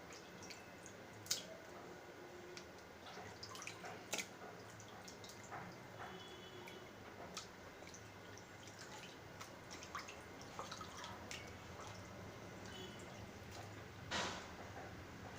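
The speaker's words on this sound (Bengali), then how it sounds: "এখানে আমি মাংস ধুয়ে তুলে দিচ্ছি" Water drips and trickles in quick, irregular taps while a kilogram of sacrificial Eid beef is rinsed in a home kitchen, with soft squishing of the wet meat between drops and no talk.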